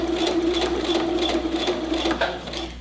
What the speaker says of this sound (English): I'm just finishing up sewing my top portion now.